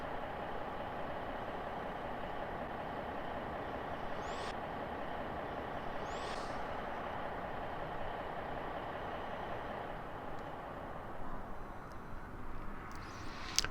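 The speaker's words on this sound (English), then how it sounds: "And there you can hear the engine or the motor of one of those buses." Simulated airport bus engine at Geneva airport idling in a steady, continuous low rumble, with a couple of brief high whines rising over it midway and faint clatter toward the end.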